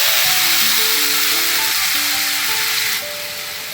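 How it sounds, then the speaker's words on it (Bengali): Black cumin tempering in hot oil with mustard paste poured in, a loud continuous hiss and sizzle close up that drops in level near the end, with steady tones running beneath it. "কালো জিরেটা একটু ভাজা হলে তখন এই গোলাপ সর্ষেটা এর মধ্যে ঢেলে দিলাম।"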